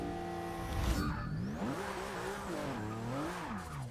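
A Porsche 911 GT2-RS with a drag and wheelie build in Forza 6 revs and accelerates hard, its engine pitch rising and falling through gear shifts, with a brief tire squeal at the launch.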